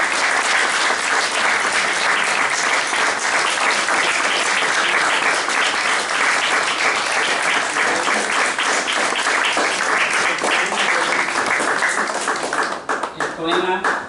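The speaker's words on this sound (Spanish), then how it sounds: "Un aplauso" Audience applause at a poetry evening, dense sustained clapping from a room full of people holding steady for over twelve seconds before breaking into a few scattered final claps.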